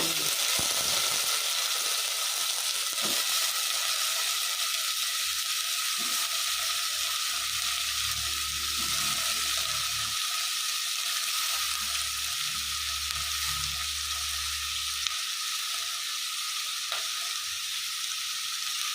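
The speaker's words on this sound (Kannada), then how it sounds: "ಈಗ ಈರುಳ್ಳಿ ಫ್ರೈ ಆಗಿದೆ ತರಕಾರಿ ಹಾಕೊತ ಇದ್ದೀನಿ ಕ್ಯಾರೆಟ್ ಮತ್ತೆ ಬೀನ್ಸ್ ಹಾಕ್ಕೊತಾ" Carrots and beans frying with onion in a pan for sambar give a steady, bright, close sizzle throughout, with occasional low stirring knocks and scrapes beneath it and no voices.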